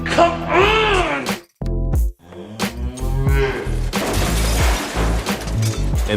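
Loud, drawn-out cow moos, several in a row, with clattering knocks and bangs between them.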